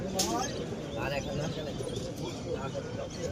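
Pigeons at a busy Beldanga market coo softly and intermittently amid a noisy crowd, with people talking nearby over the steady murmur.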